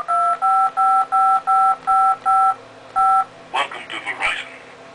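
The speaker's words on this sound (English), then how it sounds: "You can't box in money unless you dial the number." Touch-tone keypad beeps from dialing a payphone number in the PayPhone DS game: eight crisp, evenly spaced dual-tone presses ring out loud and clear, after which a burst of voice or game audio follows.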